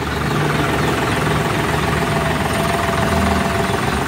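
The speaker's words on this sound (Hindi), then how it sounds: "बहुत वधिया शानदार आवाज है ट्रैक्टर की।" A John Deere tractor engine idles steadily and loudly up close, a continuous low diesel rumble with an even, unbroken vibration and no hunting in its speed.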